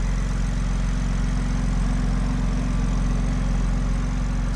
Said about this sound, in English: And here's the engine, idling very quietly, very smooth.